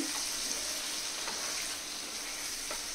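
Dried fish fries in a pan on the stove, giving a soft, even sizzle with a few faint stirring scrapes, quiet and steady with no voices.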